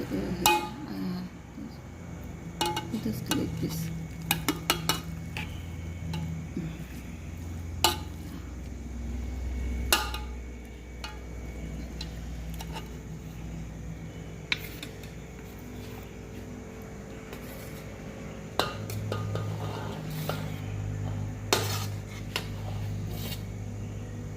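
Biryani being portioned into customers' own pots at a Kolhapur roadside eatery, with scattered metallic clinks and scrapes of serving utensils against vessels over a low murmuring background hum throughout.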